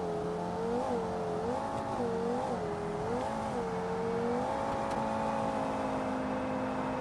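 A sports car engine in BeamNG.drive revs and drones, its pitch rising and falling in waves before settling into a steady high whine at the speed limiter, with a synthetic, game-like tone.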